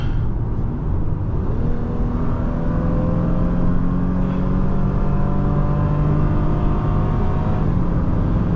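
A 2025 Honda Pilot's 3.5-liter engine pulls steadily from the cabin, its rising tone climbing smoothly and continuously throughout, alone without talk.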